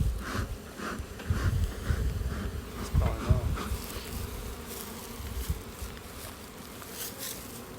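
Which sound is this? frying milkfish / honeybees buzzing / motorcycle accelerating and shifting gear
honeybees buzzing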